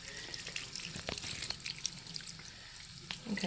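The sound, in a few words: rinsing body wash off hands under running water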